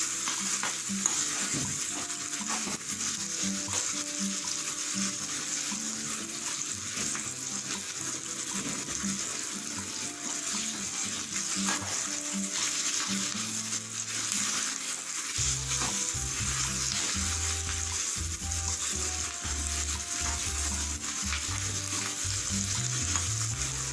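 Continuous sizzling from ginger and garlic frying in a pan, steady and close, with occasional stirring and clinks; no one speaks.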